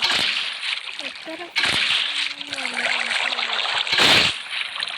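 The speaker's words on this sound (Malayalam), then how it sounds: "ഇനി ഇതിലോട്ട് വെള്ളം ഒഴിക്കണോ" In Minecraft, water poured into a fish tank splashes and sloshes steadily at moderate volume, with a brief gap and a louder gush near the end, while a player talks over it.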